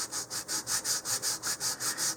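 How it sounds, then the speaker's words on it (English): Rhythmic back-and-forth rasping of 150 grit sandpaper on a sanding tee working a wooden model rocket part, about eight even strokes in a steady cycle, close and clear with no talk. "I'm going to use some 150 grit sandpaper on a sanding tee."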